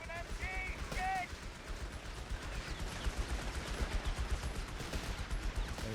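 Rapid machine gun fire from an MG34 and a Vickers in a video game battle, dense continuous bursts rolling through the whole stretch with scattered distant shots and some battlefield noise layered in.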